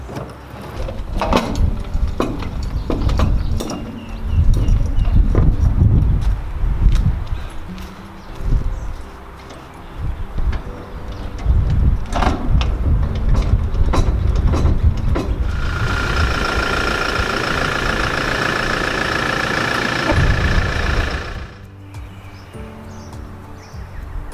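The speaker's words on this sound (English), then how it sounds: "custom winder, start winding" A custom winder lowers the legs of a tray canopy on an N80 build, giving repeated close clunks and ratcheting knocks, then a steady whining drive for several seconds before it stops.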